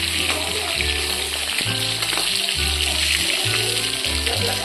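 Bhetki fish fillets lightly frying in a pan, sputtering and crackling close up, with soft bumps and scrapes from handling the pan.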